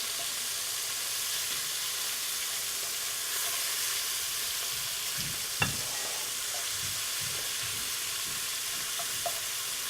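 Cubed venison hindquarter, about three pounds, fries in a pan for chili. A soft, even sizzle continues throughout, with occasional faint clinks and stirring touches and no talk.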